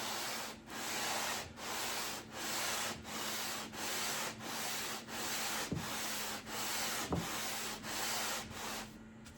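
Book-matched maple pieces are rubbed back and forth on a sheet of glass, a steady rhythmic scraping with about a dozen even strokes, close and moderately loud, with brief pauses at each turn.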